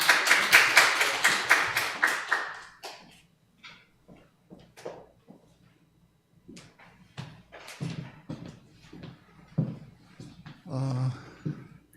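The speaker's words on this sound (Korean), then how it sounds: "박원하 집사님 박수로." A church congregation at a Christmas morning service claps in welcome, a short burst of rhythmic hand claps at the start that fades into scattered taps and small noises in a quiet hall.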